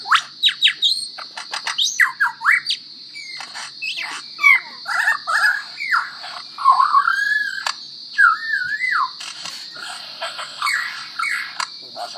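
A bird sings a lively, varied song of quick chirps, trills and whistled phrases, clear and close against a quiet background with a faint steady hiss.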